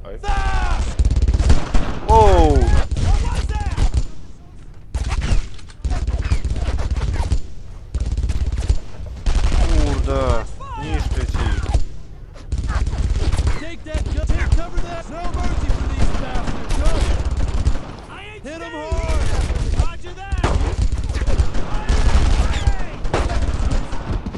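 In the World War II game Brothers in Arms: Earned in Blood, a rapid-fire gun rattles off dense bursts of gunfire with shouted voices and other shots, loud and close, continuing through the whole stretch while someone speaks Polish over it.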